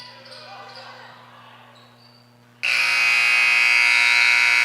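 A loud, sustained electronic buzzer sounds to end the third quarter of a high school basketball game in a gym, cutting in abruptly after quieter court noise and holding steady to the end.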